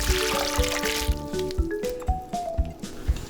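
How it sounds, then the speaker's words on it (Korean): Salted cucumber wrapped in cheesecloth is squeezed by hand, giving repeated soft squelching squishes and water dripping and trickling, close and fairly loud, with no talk. "오이는 찬물에 한번 헹궈주고 면포에 넣어 물기를 꼭 짜주세요."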